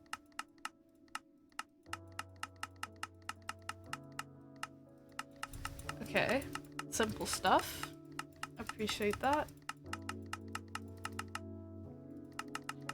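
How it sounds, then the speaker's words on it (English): Quick, steady computer keyboard and mouse clicks during a modded Minecraft session, close and crisp, with someone talking briefly midway over a soft electronic hum. "This clicking feels so loud to my ears"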